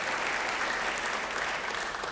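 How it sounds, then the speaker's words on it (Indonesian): A congregation at a church service claps together, giving dense, even applause that stays loud and continuous throughout. "Beri tepuk tangan yang baik bagi dia."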